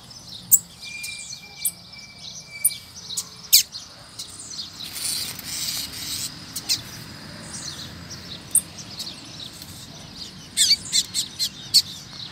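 A free rusty-collared seedeater (coleiro pardo) sings in bright, repeated chirps and whistled phrases, loud and close in an open rural yard, with bursts of calls near the start and end over a quiet background.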